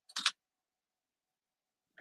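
A camera shutter fires on a slow-speed exposure for toy photography: a crisp double mechanical click opens it, then near silence for over a second and a half before a smaller closing click.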